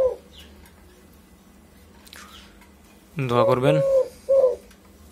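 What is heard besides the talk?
doves cooing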